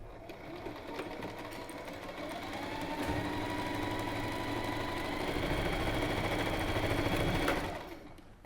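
Sewing machine top stitching a double-fold hem on fabric, a steady close mechanical whir that builds in speed and holds for several seconds before stopping abruptly, with no voice over it.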